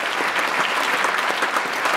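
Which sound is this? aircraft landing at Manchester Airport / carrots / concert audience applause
concert audience applause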